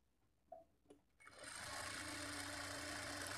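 After a couple of quiet clicks, a sewing machine starts stitching a blouse along a marked line, settling into a steady, close whirring run.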